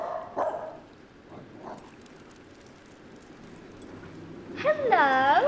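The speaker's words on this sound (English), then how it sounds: "I didn't know you had a dog." A dog barks and yips close by in a domestic scene, a brief yelp early on, then quiet room tone, then a louder run of high whining barks at the end.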